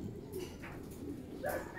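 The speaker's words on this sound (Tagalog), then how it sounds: "Ang gandang ibon." Soft bird calls, a few brief coos and chirps, over a steady low outdoor rumble.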